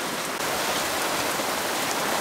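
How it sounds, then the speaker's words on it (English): Steady, hard rain pours down on a boat, a dense, loud, unbroken hiss of drops drumming on the deck and cabin without a pause. "this is some pretty heavy rain."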